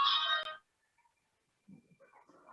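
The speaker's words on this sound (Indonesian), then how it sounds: "Ini kebetulan ada telepon." During an online meeting, a telephone ringtone sounds as one short, bright, loud burst at the start, followed by near silence and a few faint scattered sounds.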